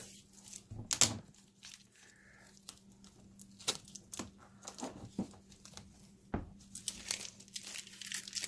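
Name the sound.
cutting black electrical tape off silicone-lined soap mold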